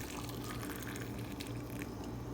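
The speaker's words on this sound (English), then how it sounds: "And then I'm pouring this boiling water." Boiling water poured from a kettle into a container with OxiClean for cleaning dolls, a steady close splashing and filling rush that runs unbroken throughout.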